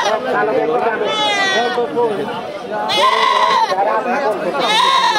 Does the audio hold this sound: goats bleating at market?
yes